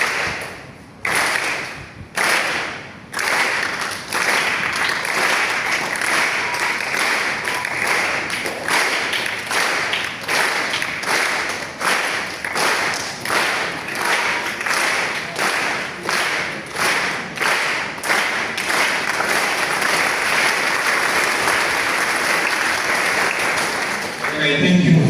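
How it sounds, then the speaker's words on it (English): An audience at a keynote address claps together in a steady rhythm, one sharp clap after another answering a speaker's steps, with short pauses early on and a voice heard over the claps. "That is when I ask you to clap, to do clapping exercise in response to my steps."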